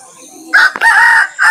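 A native country rooster at a livestock and poultry market in Nabagram, Ghatal, gives one loud, close crow in several drawn-out segments.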